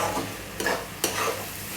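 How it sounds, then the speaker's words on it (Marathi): Red chilli masala, onion and tomato stirred together in a pan while frying for chicken chutney, a soft steady sizzle with a couple of louder scraping stirs, close and without talk. "आता हे सगळं मिक्स करून घ्यायचं आहे"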